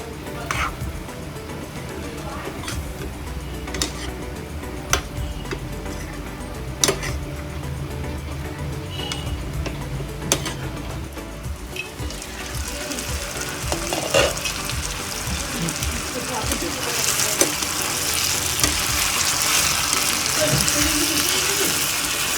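Brinjal and other vegetables are added to a pan of softened tomatoes for sambar, with clattering stirring and ticking over a frying hiss that grows into a louder, steady sizzle.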